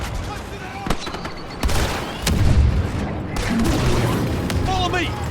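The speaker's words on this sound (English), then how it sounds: "Throwing grenade." A grenade explodes amid Star Wars Battlefront II combat on Jakku, with booming blasts and scattered gunfire in a dense battle din and voices calling out.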